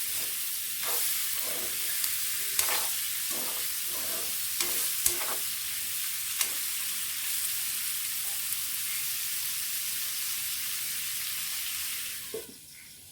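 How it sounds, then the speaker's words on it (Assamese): Skunk vine leaves frying with salt in a pan over a low flame, giving a steady hiss and sizzle with repeated scraping stirs at irregular intervals, close and constant, with no talking. "গেছটো একেবাৰে ল' ফ্লেমত থৈ এইখিনি ভালদৰে ভাজি ল'ম এবাৰ"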